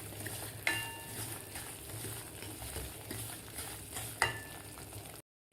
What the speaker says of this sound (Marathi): एकदम बारीक गॅसवर आपल्याला व्यवस्थित 6 ते 7 मिनिट हे रवा व्यवस्थित भाजायचा आहे.